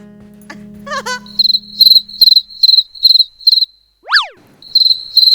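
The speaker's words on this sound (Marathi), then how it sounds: "आहे रातकिडा आहे" A cricket chirps in a dark room at night, its bright trilling pulses coming in a steady run of short bursts, pausing briefly before resuming; a sharp swooping tone cuts in near the end.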